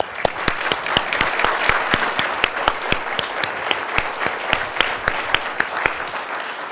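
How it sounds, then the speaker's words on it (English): Steady audience applause with many hands clapping, sustained and fairly loud throughout, with no voices. "How about a round of applause for our guests?"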